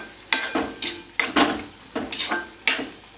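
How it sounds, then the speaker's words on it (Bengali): Carrot halwa stirred in a pan on low flame, rhythmic scraping strokes of a spoon against the pan bottom repeating about every half second, close and fairly soft with a faint sizzle underneath. "এটা লো ফ্লেমে নাড়তে নাড়তে এটাকে শুকিয়ে নিতে হবে।"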